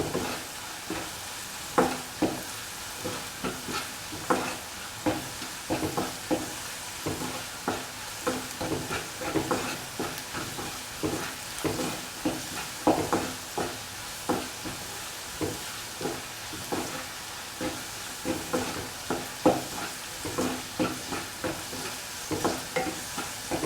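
Chili powder, fenugreek powder, turmeric and salt are stirred into tender mango pickle in a pan: repeated spoon scrapes and clanks keep a steady rhythm over a low, constant sizzle.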